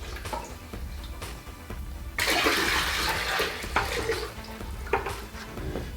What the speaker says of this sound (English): Okay, so now we're just testing the toilet. So we're gonna flush it.